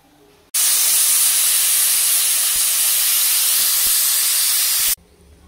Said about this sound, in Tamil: ப்ரெஷர் குக்கரை மூடி வச்சுக்கோங்க. விசில் போட்டுக்கோங்க.